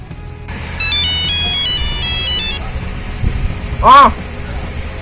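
An electronic phone ringback tone plays a short repeating melodic pattern while a call is placed, then a single sweeping beep rings out over low background hum.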